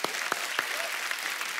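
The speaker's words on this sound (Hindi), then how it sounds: "पहले तो इस बात के लिए तालियां होनी चाहिए।" Studio audience applause on a Hindi comedy talk show, steady dense clapping throughout, with a few sharper claps standing out.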